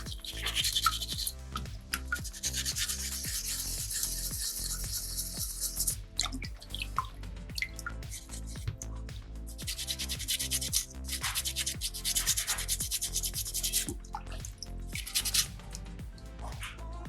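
Sandpaper rubbing over a small soapstone bison carving in steady back-and-forth strokes, close and fairly quiet, continuing throughout with brief breaks and no voices.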